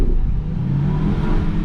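A Volkswagen GLI in sport mode accelerates at a cruise night, its engine a deep, steady rumble heard from inside the car, loud and continuous with a slowly rising drone.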